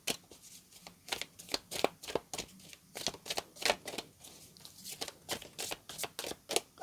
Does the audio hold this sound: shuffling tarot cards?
yes